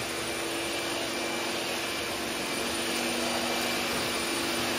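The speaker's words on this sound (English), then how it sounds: "I can kind of hear the brush roll hitting the carpet a little bit" Vacuum cleaner with a brush roll running over carpet, a steady loud broadband motor roar with no talk throughout.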